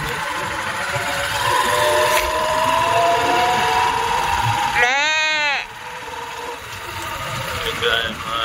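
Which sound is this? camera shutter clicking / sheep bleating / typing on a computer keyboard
sheep bleating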